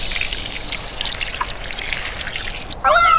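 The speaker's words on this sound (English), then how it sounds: "The water comes spurting out the hose." Water gushing from a hose in a cartoon firefighting scene, a steady loud hiss and spray running throughout, with a brief splashy sweep near the end.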